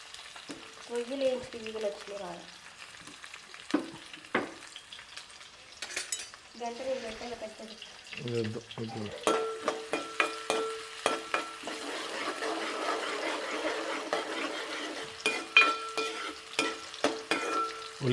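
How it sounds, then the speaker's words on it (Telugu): Prawns fry with green chillies and onions in a pan, a soft, steady sizzle with stirring scrapes and clinks, while voices talk over the first half. "ఉడకటతో పాటు రొయ్యలు కూడా మగ్గాలి మంచిగా మగ్గుతాయి"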